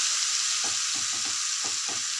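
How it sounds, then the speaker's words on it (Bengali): Potatoes frying with spices in a pan for a Bengali dhonia begun dish, giving a steady close sizzle with a few soft stirring scrapes and no talk. "মশলার সঙ্গে ভালো করে ভাজা আলুগুলোকে ভেজে নিই।"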